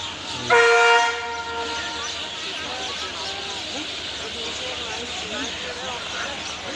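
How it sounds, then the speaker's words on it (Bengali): A loud train horn sounds once, then a steady rumbling roar as an old express train rolls slowly past close by through Santragachi railway station, with hiss and clatter continuing throughout. "পুরোনো দিনের একটি এক্সপ্রেস ট্রেন খুব ধীরে ধীরে স্টেশনটি পার করছে"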